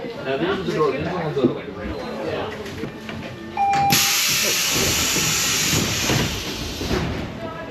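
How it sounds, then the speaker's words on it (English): Pneumatic piston-powered doors on a train at Seattle Center Station let out a loud, sustained broadband hiss that starts abruptly and carries on for several seconds, following a short chime, with people talking before it. "Those are piston-powered doors."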